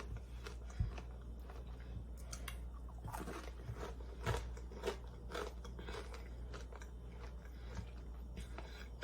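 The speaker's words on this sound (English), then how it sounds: "You can hear the crunching." Crunchy bites and chewing of fried stew meat mush, a cornmeal dish, sound close but faint as a series of irregular crisp crunches over a low steady background hum, with no speech.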